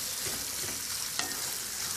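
Ingredients for Persian duck rice sizzle steadily in a hot pan while being stirred, with soft scraping and one brief clack partway through.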